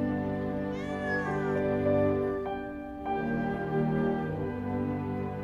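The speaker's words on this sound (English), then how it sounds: "Kitty." A cat meows clearly at close range, a few drawn-out calls over a steady tonal hum in the background.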